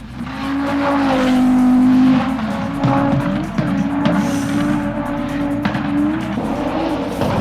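An Audi quattro with a turbocharged 2.1-liter inline-5 and all-wheel drive revs hard and loud, its engine note rising and falling, with brief tire squeal as it works through the gears.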